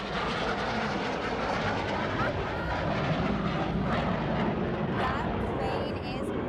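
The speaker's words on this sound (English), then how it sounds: "That plane is moving." A steady, loud propeller airplane engine drone fills the whole stretch with broadband rumble as the plane flies close by at an air show, with faint voices underneath.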